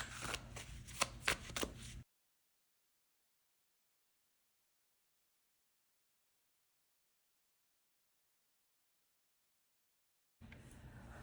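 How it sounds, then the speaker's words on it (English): A brief burst of tarot cards being shuffled up close, crisp riffling clicks, followed by a long silence and then a faint return of handling noise. "continue shuffling and pulling out your cards"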